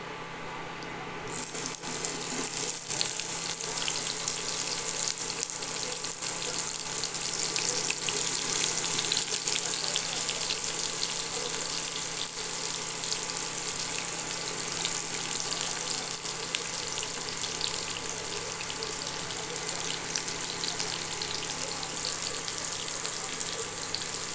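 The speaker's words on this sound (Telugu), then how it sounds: "ఇప్పుడు ఉల్లిపాయలు వేస్తున్నాను." Onions sizzle in a pan of hot oil already seasoned with mustard seeds, cumin, urad dal, chana dal, dried red chilli and curry leaves. The frying hiss is loud and steady throughout, with occasional crackles and no talking.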